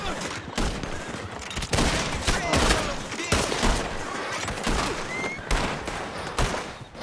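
Video game gunfire crackles in repeated bursts and volleys, loud and sharp over a busy background, with overlapping shots spread across the whole stretch.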